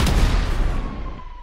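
Gunfire and explosive blasts in the GTA5 video game during an alien-invasion battle, a loud burst of shots with a booming tail that slowly fades.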